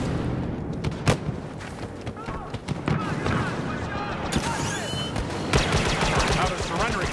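Dense, continuous blaster fire from the Star Wars Battlefront video game, with rapid overlapping shots and bursts throughout and game voices talking intermittently beneath the barrage.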